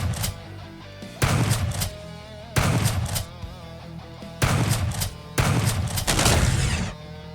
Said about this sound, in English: And we're going to use the shotgun.